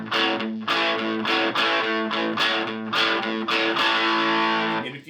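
Electric guitar through an amp with its drive set to mimic a distortion pedal, playing rhythmic strummed chords, loud and saturated with no talking.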